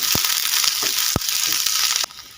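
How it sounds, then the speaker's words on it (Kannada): Chopped onion fries in hot oil with curry leaves, giving a dense, loud sizzle close up. A few sharp stirring clicks knock through it, then the sizzle drops away abruptly near the end. "ಈಗ ಇದಕ್ಕೆ ಒಂದು ಈರುಳ್ಳಿನ ಕಟ್ ಮಾಡಿ ಹಾಕ್ತಾ ಇದ್ದೀನಿ ಈರುಳ್ಳಿ ಒಳ್ಳೆ ರೀತಿಯಲ್ಲಿ ಫ್ರೈ ಆಗಲಿ"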